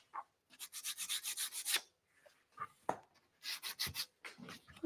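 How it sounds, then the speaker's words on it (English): Sandpaper rubs along the edges of a thrifted home decor piece in short rhythmic strokes, close and soft, with pauses between bursts of rasping. "I'm gonna sand where it would normally wear, definitely along the edges"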